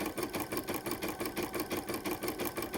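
A Brother 770 and a Janome 550e refurbished embroidery machine stitch a blanket, giving a close, steady rapid mechanical chatter with an even pulsing rhythm and no voices.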